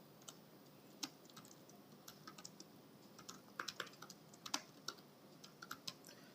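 Python code being typed on a computer keyboard, with quiet, irregular clicky keystrokes in bursts and no voice.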